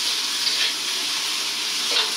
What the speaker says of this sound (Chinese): 姜片煸香之后直接下入牛蛙煸炒就行了。